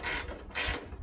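A ratchet tightens a bolt on a Fiat 500 under repair, producing two quick bursts of rapid mechanical clicking separated by a short pause, close up with no voices.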